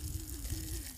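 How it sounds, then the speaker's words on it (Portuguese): Piped water runs from a tap in a rural village, a faint, steady rushing flow with a low hum beneath it, heard alone for about a second. "Vou ligar aqui a torneira para vocês verem"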